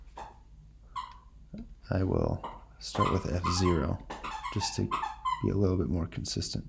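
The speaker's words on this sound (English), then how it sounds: "Sorry about the dog making noise." A dog whimpers and yips in short, high whines near the start, then someone talks over further faint whimpering noises.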